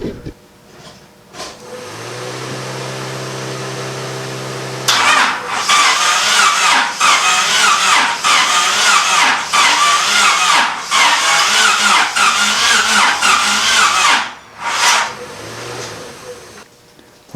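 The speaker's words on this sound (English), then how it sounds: "then I'm going to hit the key and see exactly what this thing does" A Honda Civic EK hatchback engine, sitting unused for a while and low on compression, cranks steadily on the starter for several seconds, then fires into a rough, rhythmic idle with revs rising and falling before cutting off.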